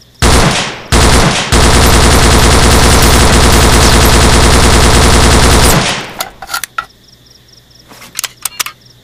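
A World War II era DP machine gun firing in the video game Vietcong, loud sustained automatic bursts with short gaps, then stopping abruptly into a few scattered clicks and quieter game sounds.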